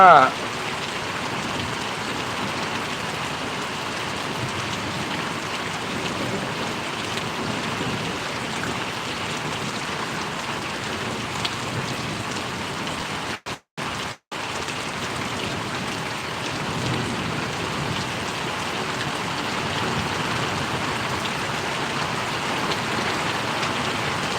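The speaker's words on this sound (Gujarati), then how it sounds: "વરસાદ પાછો હતો જમાવટ થયો" Heavy rain falls continuously on Parvadi village in Gariadhar taluka, a thick, steady hiss of drops with a couple of brief dropouts midway and occasional faint voices beneath.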